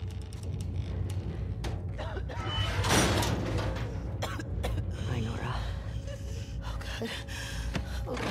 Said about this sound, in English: I hear her coughing.